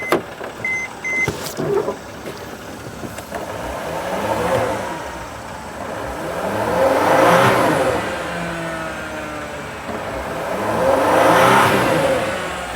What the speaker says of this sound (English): Now I'm gonna rev up the engine.